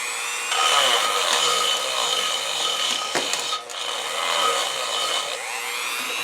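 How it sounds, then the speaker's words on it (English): A Dremel rotary tool with a fine attachment grinds and cleans inside an R380 gearbox casing, a continuous loud, bright whirring scrape that dips briefly once before carrying on. "we'll just take the Dremel with the fine on it"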